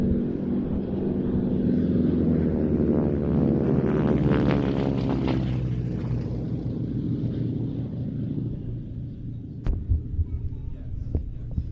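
A vintage propeller aircraft makes a last pass at the Old Buckenham Airshow, a steady droning engine hum that swells and rises in pitch toward the middle, then eases away, with a few faint knocks near the end.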